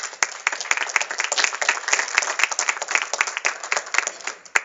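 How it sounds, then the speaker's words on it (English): A room at a board meeting applauds the cadets: dense clapping from a modest crowd, steady and fairly close, with no talking over it. "ask for a round of applause for our cadets"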